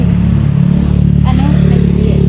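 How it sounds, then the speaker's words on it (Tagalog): Motorcycles on a rural road in Leyte province in the Philippines, a steady close engine drone with harmonic rumble running the whole time as bikes pass, with talk over it. "daming motor dumadaan aga pa talaga"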